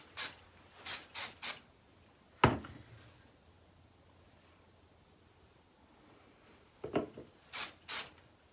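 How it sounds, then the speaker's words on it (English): Short hissing hairspray bursts over short pixie-cut hair come in quick clusters, three at the start, one sharp burst mid-clip, then several more toward the end, close and fairly loud. "just spray through the hair, mostly on the top and at the back."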